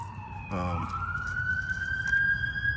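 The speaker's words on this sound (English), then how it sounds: "I wait till this ambulance go by." An ambulance passes on a street near a small nursing home, its siren wailing and rising in pitch over steady traffic rumble, fairly close and continuous.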